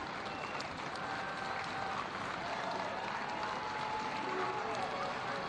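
Crowd at a packed rugby stadium applauding Korean players during a Hong Kong China v Korea men's championship match, a steady wash of clapping and crowd noise throughout with a commentator talking over it.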